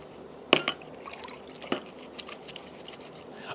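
A handkerchief is rubbed and swished in a bowl of plain water with no cleaner added. One sharp splash comes first, then a second softer slosh and a few faint drips, close by, with no talking.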